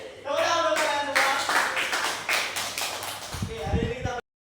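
Children applaud in a sixth-grade classroom, a brief burst of close, uneven clapping that follows a teacher's talk and fades out with scattered taps.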